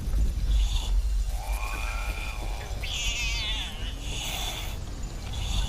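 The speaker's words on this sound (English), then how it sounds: "Got another kitty here." Cat meowing in Fallout 76, several drawn-out high mewls and a sliding cry spaced over a few seconds, moderately close, over a low rumbling game background.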